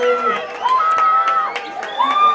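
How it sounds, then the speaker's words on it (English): A high school football crowd at a Pacheco versus Central Valley game cheers and shouts steadily after a big run, with a commentator's voice running over the noise throughout. "This crowd looks to be fired up."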